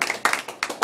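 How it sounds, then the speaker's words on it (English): A brief burst of clapping, several hands applauding together in quick uneven pulses, close and fairly loud. "Round of applause for this lady here."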